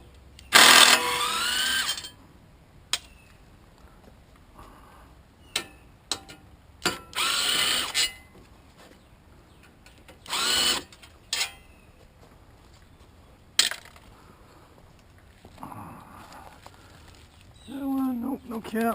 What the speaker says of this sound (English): And then just start taking the bolts out.